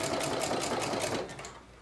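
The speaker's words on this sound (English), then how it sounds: "And so then I'll sew a small amount and then kind of pull my piece forward" A sewing machine runs steadily, stitching a small plush ponytail piece in short bursts, with a fast even mechanical chatter that eases off slightly toward the end.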